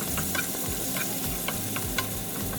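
Steady hiss of spring onion frying in leftover oil from frying fish, with occasional soft clicks and stirring taps throughout, close and continuous with no voices.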